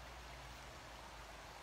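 River flowing in a continuous, faint, even rush of water with no breaks, heard alone without voices.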